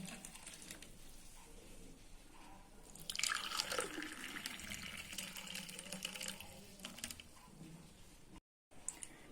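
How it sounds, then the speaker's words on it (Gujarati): Masala buttermilk (chhas) pours into a glass with a steady liquid trickle and dripping, growing louder partway through and then easing off, close by with no talk. "ગ્લાસમાં પહેલા છાશ નાખીશું"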